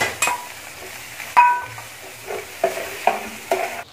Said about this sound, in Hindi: टमाटर और हरी मिर्चें मैंने इसमें डाल दी थी, वो भी फ्राई हो गई हैं।